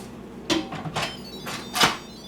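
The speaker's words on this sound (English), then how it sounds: "we're going to seal the lid" An Instant Pot pressure cooker lid being set and sealed, with several close plastic clunks and scrapes, the loudest click near the end.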